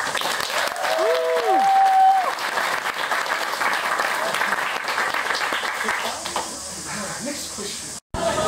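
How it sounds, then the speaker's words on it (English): Audience applause for the chefs at a hangi meal at Tamaki Maori Village, a dense, loud burst of clapping that thins out toward the end, with a few voices and a whistle-like tone near the start. "How about a huge round of applause for your chefs?"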